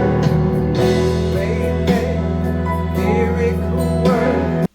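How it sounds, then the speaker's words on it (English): Instrumental accompaniment for the worship song Waymaker in a high key, with no background vocals: steady, full sustained chords and a continuous bass play loudly and alone, with no singing. "We have the song Waymaker in high key without background vocals,"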